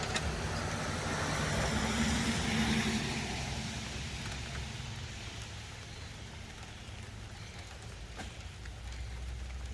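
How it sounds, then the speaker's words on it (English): Heavy rain pouring steadily outdoors near a Jeep Comanche restoration project, a dense continuous hiss that swells slightly early on and then holds steady, with no voices over it. "It's pissing rain."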